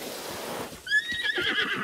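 A horse in the video game The Legend of Zelda: Breath of the Wild gives a loud, close whinny that rises and trails off, with soft hoof clops beneath it, after a low ambient rumble.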